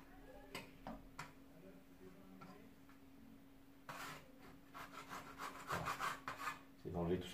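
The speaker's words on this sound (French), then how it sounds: "maintenant je vais gratter en fait pour essayer de lisser au maximum et de mettre à ras du mur" A trowel scrapes fresh plaster flush with a wall over a filled electrical cable channel, giving soft intermittent rasps and taps that build into denser, louder scraping strokes toward the end, close by with no talk.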